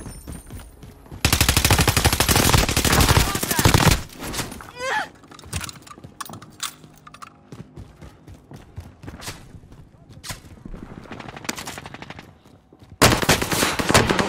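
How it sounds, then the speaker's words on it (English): Rapid automatic gunfire in a battle royale video game, loud bursts at the start and end with scattered shots and game effects between them. "Hostile fire."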